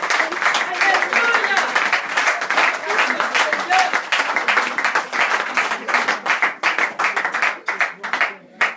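A church congregation claps and applauds in praise, a dense burst of many hands that thins into scattered louder claps toward the end, with voices mixed in.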